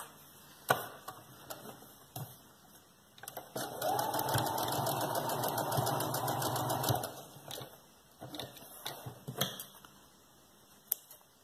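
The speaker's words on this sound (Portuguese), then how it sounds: "Vou fazer uma costura para frente, um retrocesso para frente de novo." Sewing machine stitching elastic onto fabric, one steady run of about three seconds of fast stitching whir, preceded and followed by clicks and fabric handling, close and moderately loud.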